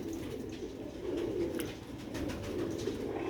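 Soft, low cooing of Sialkoti pigeons repeats close by over a faint background murmur, with light rustles in between.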